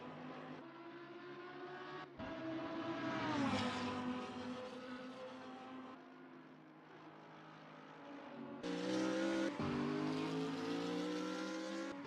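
Lamborghini Huracan GT3 race car in a racing game at Ottawa, engine loud and close, revving up and down through gear shifts with sharp cuts and climbs in pitch, no talk.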